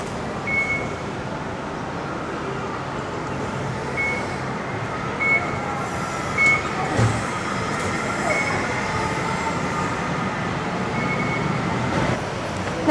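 A Bangkok train rolls toward Chitlom Station with a steady loud rumble and rattle from the carriage. A faint high chime or squeal comes through now and then, and a few louder clunks punctuate the ride.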